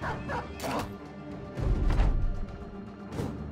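A dog in a medieval combat video game barks in a few sharp bursts, mixed with a heavy thud or crash partway through and scattered clatter around it.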